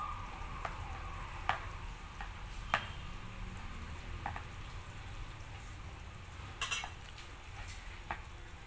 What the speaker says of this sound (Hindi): इन सारी चीज़ों को हम अच्छे से मिला लेंगे।